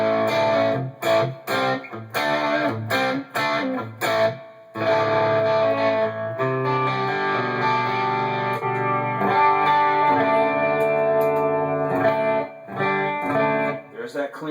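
A clean electric guitar tone through an EVH 5150 III amp, channel-switched by a Line 6 POD HD500, plays choppy strummed chords that open into sustained ringing notes, close and prominent, with someone speaking over part of it.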